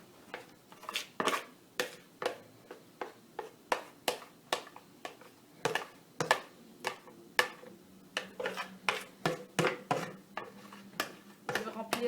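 A spoon scrapes and clinks against a bowl as cake batter for a strawberry pastry-cream cup is transferred into a buttered bowl, with a steady run of sharp, close taps and scrapes at an uneven rhythm and no talk.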